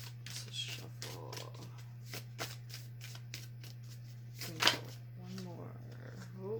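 Soft riffling and flicking of cards repeats in short bursts over a steady low hum, with a louder riffle near the middle.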